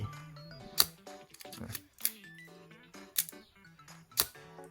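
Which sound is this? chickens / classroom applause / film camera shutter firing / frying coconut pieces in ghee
film camera shutter firing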